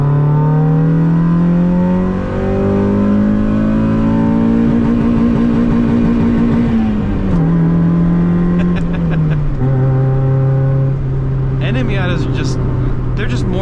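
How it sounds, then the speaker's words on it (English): A Mazda NA Miata engine revs with heavy exhaust leaks, a loud, close, buzzy drone that climbs in pitch, dips, and settles lower, holding steady for over thirteen seconds with faint crackles near the end. "There's a lot of exhaust leaks also, so you're about to hear those in full force."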